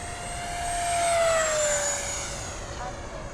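A Hobby King Flycat V2 RC electric ducted-fan plane makes a full-speed pass, its high whining fan tone rising then dropping in pitch as it sweeps by, swelling in loudness midway and fading out.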